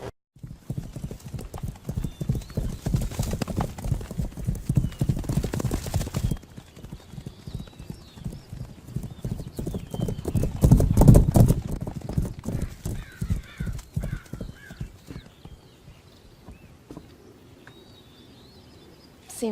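A racehorse gallops in a race, with rapid rhythmic hoofbeats that build and fade and a whinny near the middle, and faint birdsong in the quieter stretch at the end.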